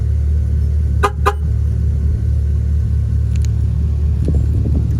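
Two quick horn chirps from a Chevrolet Silverado locking via a Viper remote start and alarm system, sounding close over the truck's low idling exhaust rumble.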